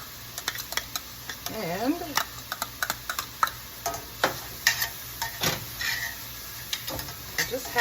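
Garlic and softened vegetables stirred in a hot pan give a light sizzle broken by irregular scraping and clacking of the utensil, close up, with a person talking intermittently over the cooking.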